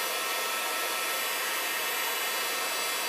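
A heat tool blasts steadily while heat setting embossing powder on a snow globe easel card, producing an unbroken, loud, close airy roar with no pauses or talking.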